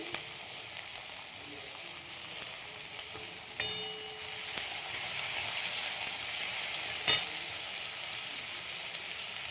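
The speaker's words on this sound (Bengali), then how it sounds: "পেঁয়াজটা ভেজে নেব।" Long-sliced onions frying in hot oil give a steady, close hiss that swells slightly midway, with a couple of brief knocks of a utensil against the pan and no speech.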